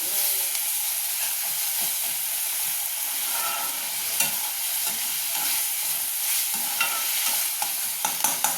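Tomatoes sautéing in a pan for spleen fry, a steady hissing sizzle with intermittent spatula scrapes and taps against the pan, close and continuous with no talking.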